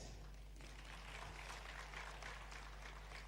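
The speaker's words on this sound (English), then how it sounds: "Big round of applause, please." Audience applause at the African Development Bank's 2024 annual meeting, a faint, even patter of many hands that swells slightly after a quiet start, over a low steady hum.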